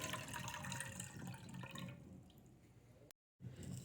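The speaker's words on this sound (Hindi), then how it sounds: "सबसे पहले हम लोग चाशनी तैयार करेंगे, जिसके लिए 2 प्याली पानी ऐड कर लेंगे।" Water poured into a pot to start sugar syrup for gulab jamun made from bread, a steady splashing trickle that thins out midway, cuts to silence briefly, then resumes near and moderately loud with no talking.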